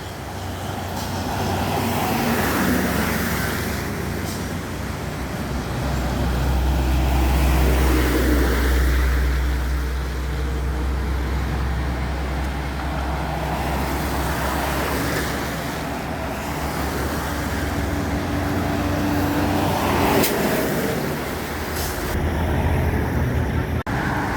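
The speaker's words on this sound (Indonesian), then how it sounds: "Banyak truk-truk muatan besar." Heavily loaded trucks rumble past on a road in Sumatra, a continuous loud low engine drone swelling and fading as several vehicles pass close by, with steady traffic noise throughout.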